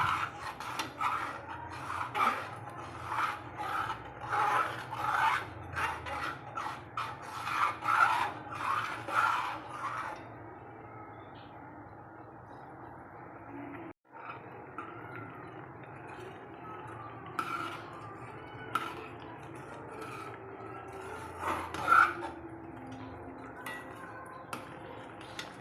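Sago pudding with milk being stirred continuously in a pot, a repeated scraping, rasping rub of the spoon against the metal with soft clinks, strong at first, then quieter and more intermittent, with no talk.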